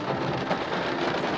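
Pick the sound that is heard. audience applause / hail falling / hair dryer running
hail falling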